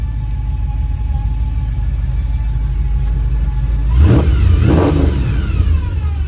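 A carbureted stroker 388 V8 in a 1971 K20 Suburban idles with a deep, steady rumble, then revs sharply twice in quick succession before settling back to idle, loud and close.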